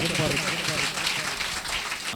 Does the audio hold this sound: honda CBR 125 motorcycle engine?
no